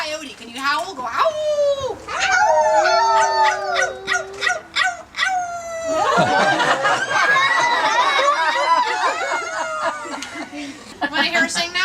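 Performing parrot at a bird show imitating a coyote howl, giving rising and falling wavering cries mixed with dog-like yips, loud and close, with a person talking around it.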